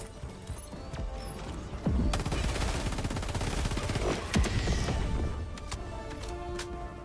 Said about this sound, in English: Throw our orbital strike over there.